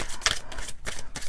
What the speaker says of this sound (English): Okay, I'm feeling one more shuffle.